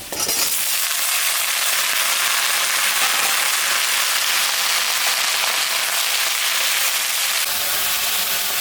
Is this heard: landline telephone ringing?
no